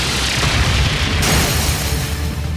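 A Brionac weapon fires in Trails of Cold Steel III, a sustained, loud, deep booming blast with a roaring rumble that swells and holds across the whole stretch, no voices over it.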